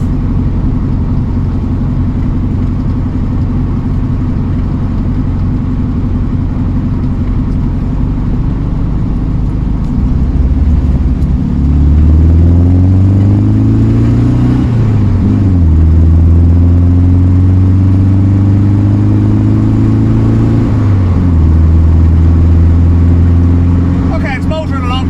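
A 1967 VW Beetle with a worn, ratty engine drones steadily while driving, its low hum rising and falling in pitch as it revs through gears, loud and close, with a voice talking over it.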